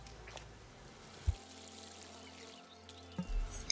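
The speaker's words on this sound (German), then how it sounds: "Die Blumen müssen wir gießen." Flowers being watered in the video game Wylde Flowers: a quiet, steady pour-like trickle runs through the clip, with a couple of brief soft clicks, and no talking.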